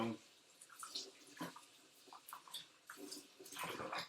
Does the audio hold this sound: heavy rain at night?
no